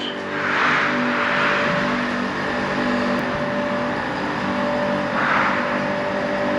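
A Ford F450 truck engine idles and revs gently while backing up, a steady close rumble with a few soft swells in throttle, no talk.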